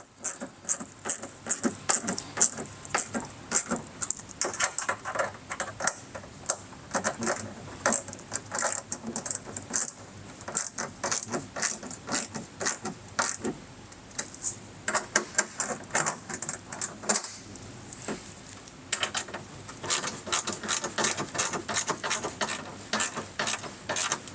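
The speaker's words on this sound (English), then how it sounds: "we'll go ahead and fully secure all the screws" Screws are driven in to secure Rokblokz mud flaps at the rear of a 2024+ Toyota Tacoma TRD Pro/Trailhunter: a fast, steady run of close, sharp clicking and ratcheting bursts that carries on through the clip with short pauses.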